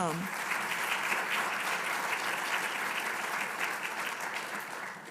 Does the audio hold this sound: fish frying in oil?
no